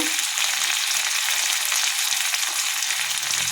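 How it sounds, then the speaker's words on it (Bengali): Mixed vegetables fry in a pan with masala, turmeric, salt, cumin powder and a little sugar, giving a loud, steady sizzle with faint stirring scrapes and no talking. "সামান্য চিনি দিয়ে ভালো করে কষবো।"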